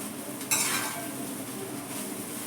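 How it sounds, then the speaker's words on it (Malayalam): Meat being stir-fried with black pepper powder in a pan, a steady soft sizzle with a sudden bright scrape of the spatula, then continued low crackling hiss. "ഇത് കുരുമുളക് പൊടി ഇട്ട് അതിനകത്താണ് ഇത് കൂടുതൽ ഇങ്ങനെ മൊരിച്ചെടുക്കണം"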